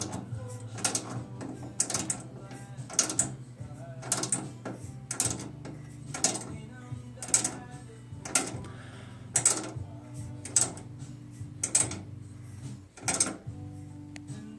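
A rivnut tool sets a threaded insert into a tube frame, giving a steady series of sharp metallic ratcheting clicks at a regular rhythm, close and fairly quiet, with a low mechanical hum underneath.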